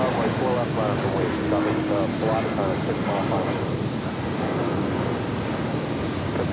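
A JetBlue Airbus A321 airliner at JFK airport produces a loud, continuous engine roar with a broad rumbling wash that holds steady throughout, sounding fairly near and unbroken.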